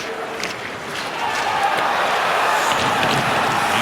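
Hockey arena crowd in a Ducks–Rangers game rising into an angry roar after a hit, a dense, building wash of voices that swells and holds loud to the end.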